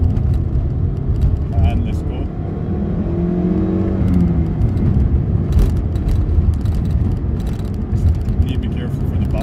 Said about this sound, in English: Here's another wee straight, let's just rev it out